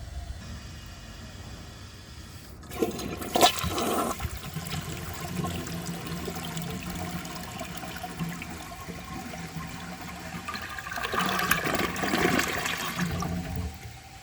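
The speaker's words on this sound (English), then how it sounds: "Now let's wait for that tank to fill back up and give it another flush." A 1981 Kilgore Apex toilet flushes with a loud rushing surge, then the tank refills with a steady trickling hiss that swells again near the end, with no talking.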